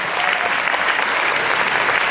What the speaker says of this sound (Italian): Facciamo ancora un applauso a Federico Marconi!